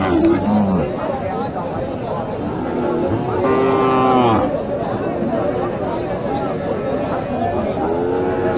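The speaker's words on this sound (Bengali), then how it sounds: "এখানে অনেক গরু আছে" Cattle, including Sahiwal heifers, low at a crowded cattle market in Naogaon district, with a few clear moos rising above the constant chatter and crowd babble.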